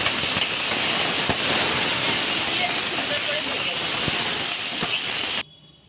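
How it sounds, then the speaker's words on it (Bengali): Onion greens frying in oil left over from frying khoira fish: a loud, dense, continuous hiss and sizzle that fills the clip, then cuts off abruptly just before the end. "এবার ওই মাছ ভাজার তেলেই আমি পেঁয়াজ কলিগুলো ভেজে নিচ্ছি"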